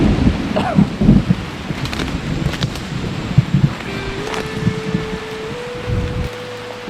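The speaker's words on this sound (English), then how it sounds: "I don't know if y'all can hear the rain and the thunder, but it's pouring." Heavy rain pours with loud low rumbles of thunder rolling through, a gusty, noisy downpour with a steady tone appearing later.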